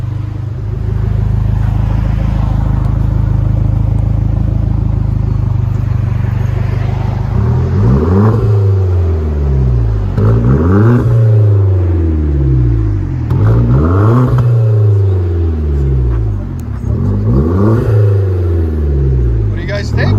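A deep exhaust on a Hyundai Genesis Coupe 2.0L with a Vibrant muffler rumbles at idle, then revs sharply several times in a steady rhythm, loud and close, with a booming low tone.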